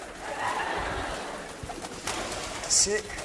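A pigeon held in hand on a French TV studio set gives a short coo and chirp near the end, over busy studio room noise and murmuring voices.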